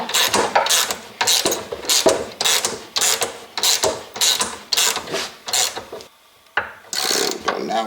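Bolts being tightened to mount an RCBS Rock Chucker Supreme reloading press, heard as a steady series of close ratcheting, grinding mechanical strokes in quick rhythm, with one brief pause before the turning resumes.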